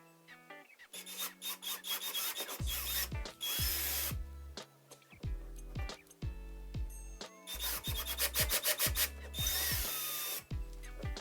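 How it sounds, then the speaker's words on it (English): An electric drill bores anchor holes into a wall for a thermostat mount, with several bursts of high whine and grinding, each winding down as the bit slows, interspersed with handling noises. "Drill the anchor holes."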